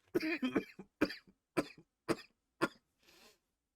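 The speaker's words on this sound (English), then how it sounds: "sorry about that coughing fit" A coughing fit: a rapid run of about six harsh, close coughs in an uneven rhythm, ending with a softer breathy exhale.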